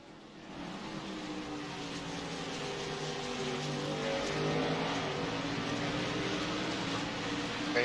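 A NASCAR Xfinity Series race car roars on the road course at Watkins Glen, its engine note droning and slowly building in loudness as it holds a sustained pitch, with no speech over it.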